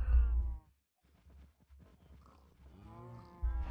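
Minecraft cow moos sound twice, a drawn-out low lowing at the start and another near the end, with softer clicks and murmurs between.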